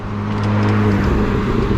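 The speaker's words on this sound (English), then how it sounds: "This car passes in a hurry." A car speeds past on a road at night, a loud, steady rushing roar that swells briefly and then holds.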